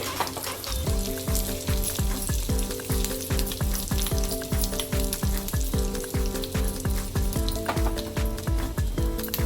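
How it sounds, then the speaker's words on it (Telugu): Mustard seeds, dried red chilies and curry leaves fry in hot oil, a continuous crackling sizzle running throughout beneath a steady, rhythmic musical backing. "ఆయిల్ ఆల్రెడీ హీట్ అయింది అందులో నేను కొద్దిగా ఆవాలు ఎండుమిర్చి అలాగే కరివేపాకు వేసుకుని వేయించుకుంటున్నానండి"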